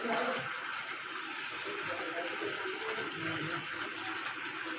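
Heavy rain pours down steadily with a broad, continuous rush of gushing water, loud and close. A voice speaks faintly at moments.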